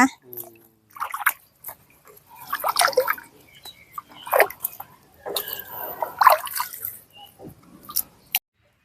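Freshly picked, ripened hill-grown persimmons being washed by hand in water at a farm in Phop Phra, with irregular drips, splashes and squishy handling, close and intermittent, with people talking throughout.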